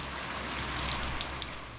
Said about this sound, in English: it's supposed to rain like this for a couple days